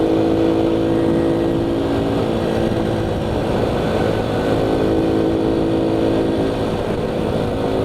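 A Honda Cub motorcycle engine drones steadily while riding in top gear, a continuous low buzzing hum with wind rush, loud and close throughout with no talking.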